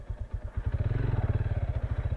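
Motorcycle riding along a rough rural access road between Antique and Capiz, its engine close and loud with a steady rapid thumping pulse and rattling over the uneven surface.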